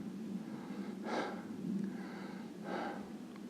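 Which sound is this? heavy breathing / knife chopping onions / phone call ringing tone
heavy breathing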